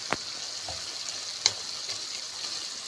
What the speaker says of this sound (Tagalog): Palalatasin natin yung mantika niya at yan ang panggisa natin.